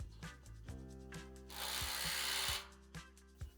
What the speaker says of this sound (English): Place washer and nut and tighten.